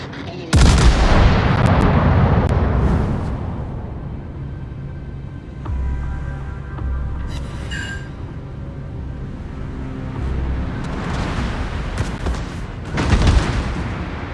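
Heavy battleship main guns fire in World of Warships aboard the Royal Navy Duke of York: a loud broadband boom opens, then a long rumbling roar with scattered distant shots, and a second strong blast near the end.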